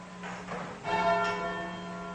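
A large church bell rung full-circle in the English style inside a tower in French Canada, its strong sustained clang swelling with overlapping hum and ringing partials, close and loud throughout.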